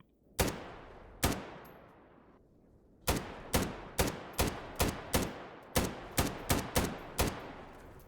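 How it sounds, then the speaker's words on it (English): Gunfire in the video game S.T.A.L.K.E.R. GAMMA aimed at a pseudo-giant: about fifteen sharp shots, a few spaced apart at first, then a quicker irregular burst, each ringing briefly with no talking. "so naturally I start shooting at it."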